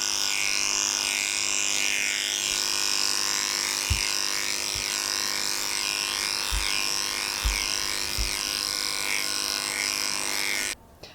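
Electric clippers fitted with a snap-on comb run in a steady, continuous buzz while skimming over a dog's legs during grooming, with a few soft low knocks along the way before the motor cuts off at the end.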